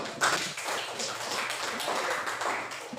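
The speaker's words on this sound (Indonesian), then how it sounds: "Tepuk tangan dulu" Scattered applause from a small group in a university classroom session, a steady patter of claps lasting a few seconds without a clear rhythm.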